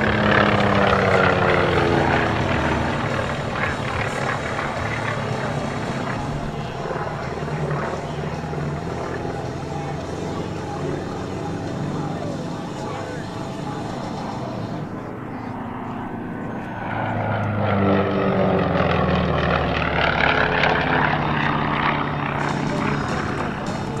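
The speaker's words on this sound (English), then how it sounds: "Do a 360 while Doc sets up to do a loop off to the right" Several T-28 Trojan propeller planes fly aerobatics at a military base air show, their radial engines a loud, continuous droning roar that swells and fades as they pass, with faint voices in the background.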